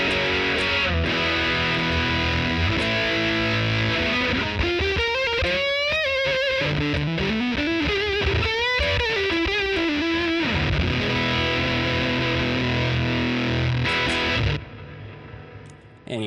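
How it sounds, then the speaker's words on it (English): Electric guitar played through a JHS Kilt fuzz and overdrive pedal, loud and saturated, with sustained distorted chords and then a gliding single-note lead line before the sound cuts off abruptly near the end. "You just instantly go from your usable, overdriven distortion"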